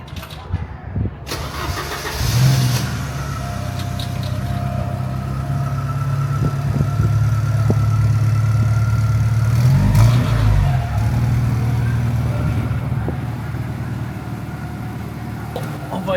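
A Porsche 944 Turbo with a five-speed gearbox starts up, then settles into a steady, close, low engine drone with slight rises in revs, while people talk in the car.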